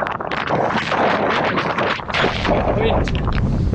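Strong wind buffeting a microphone on an open beach on Jersey's south-east coast during a trail marathon run, a loud continuous roaring rumble that gusts and swells throughout.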